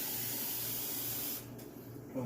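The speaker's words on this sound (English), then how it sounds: "transfer it to a bigger bowl and add a glass of water like this" A glass of water is poured into a bowl of cooked chicken haleem, a steady close hissing pour lasting over a second that stops abruptly, followed by a quieter hiss and a soft thump.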